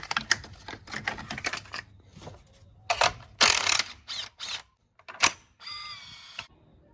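Ratchet working on the two 10 mm battery clamp bolts of a Mazda 2, giving a series of short, close mechanical clicking bursts separated by brief pauses, with no talk.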